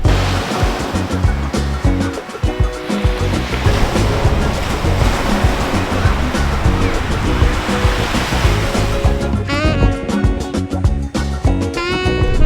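Ocean waves and icy wind at a beach in Busan, South Korea, lined with hotels: a steady, loud roar of surf and gusting wind fills the whole stretch, with no voices.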